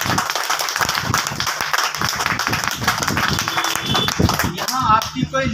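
A crowd claps enthusiastically throughout a motivational speech, with dense, continuous applause filling the room and a speaker's voice faintly underneath.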